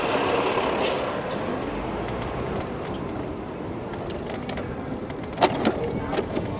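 A city bus rumbles steadily nearby in rainy street traffic, a broad continuous engine and road roar with a few brief hisses and clanks toward the end.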